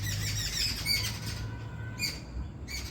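Birds call and squawk outdoors by a riverside route, bright chirps and squawk bursts repeating in clusters over a steady low rumble of wind and traffic-like background.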